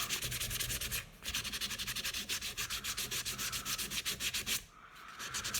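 A Dremel grinds steadily against a golf iron shaft, a loud, continuous rasping hum that pulses in quick rhythmic strokes, with a brief break near one second and another near four and a half seconds.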